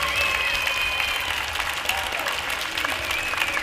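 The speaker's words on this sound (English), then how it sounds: "And please clap your hands for Zila of Bit Flavor." Sustained audience applause at the Scene.org Awards ceremony, a steady wash of many hands clapping in a large hall, moderately distant and continuous with a faint voice underneath.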